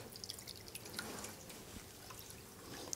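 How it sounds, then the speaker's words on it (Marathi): Fresh prawns being rinsed in clean water, with scattered faint drips and small trickles falling at an irregular pace in a quiet setting, no one speaking. "तर आता आपण व्यवस्थित आता ही कोळंबी धुवून घेऊ बरं का"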